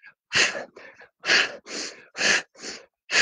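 Heavy, rhythmic breaths during a fast bicycle-crunch workout, close and loud, a steady run of sharp exhales and inhales about every half second.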